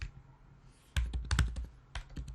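A burst of rapid keystrokes on a computer keyboard while writing Haskell code, a short pause followed by a cluster of crisp clicks and then a few more.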